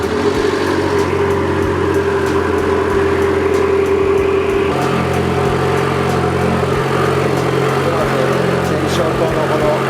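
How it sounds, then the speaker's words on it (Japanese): An Abarth 595 Competizione Performance Package engine idles with a steady, loud mechanical hum and a slight shift in pitch partway through, running continuously without pause. "ひとまずちょっとエンジンをかけてみましょうかね"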